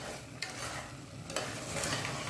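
A spoon scrapes and stirs a thick jaggery and lentil filling cooking in a pan, with soft sizzling underneath and a few sharp scraping strokes standing out.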